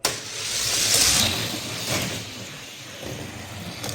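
Small die-cast Hot Wheels toy cars roll fast down a racing track, a steady loud rushing rumble with a brief clatter near the start and a second rise midway, no talking.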